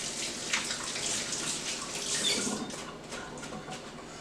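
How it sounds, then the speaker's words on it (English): Running tap water splashing over hands being washed in a kitchen sink while cooking chicken, a steady close hiss of flowing water with small splashes and no talk. "Wash my hands as I touch that."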